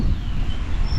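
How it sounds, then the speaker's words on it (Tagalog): Steady wind roars and buffets against the microphone, a continuous low rumble with a hissy edge and no pauses. "Ang lamig ng hangin."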